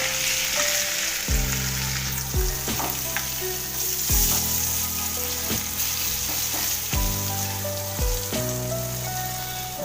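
Crushed ginger, chili and garlic sizzle and fry in a pan as they are stirred, a dense crackling hiss with repeated scrapes and clacks of the spoon, close up and without talk.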